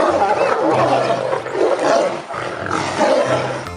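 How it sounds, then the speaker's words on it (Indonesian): A tiger in the video game Jurassic World Evolution 2 lets out loud, close, rumbling roars and growls that swell and fade in waves for nearly four seconds. "Ada harimau."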